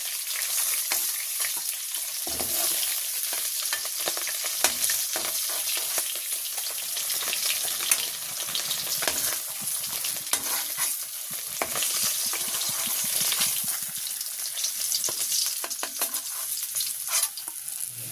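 Hilsa fish pieces fry in mustard oil with a strong, continuous crackling sizzle, close and loud, broken by frequent sharp clinks and scrapes of a utensil stirring and turning the fish. No one talks.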